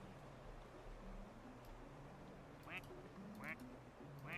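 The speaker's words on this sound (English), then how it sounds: "You can make the ducks quack." Rubber ducks in the video game Placid Plastic Duck Simulator quack a few times, short nasal quacks spaced apart over a soft background hum and faint game music.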